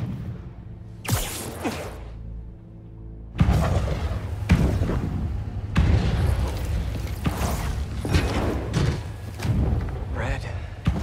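Fireworks in the Spider-Man 2 video game, on a rooftop, popping and booming in a series of irregular bursts with whooshes between them, mixed with game sound effects and voices talking.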